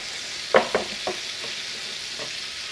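Buttermilk-battered chicken breast frying in hot oil, a steady bright sizzle with a few louder pops and crackles near the start, close and alone without talk.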